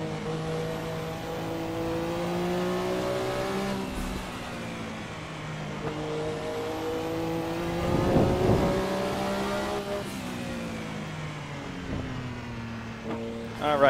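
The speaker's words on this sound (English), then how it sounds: "Now as I come off the throttle, you hear the wastegates popping off." A Porsche 962 race car in Assetto Corsa, its engine droning steadily through gear changes and lifts off the throttle, with sharp popping wastegate bursts near the middle and a brief voice under the sustained engine note.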